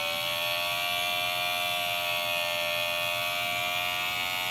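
A brushed motor run as a generator gives off a steady, high buzzing whine with no breaks, close and constant throughout.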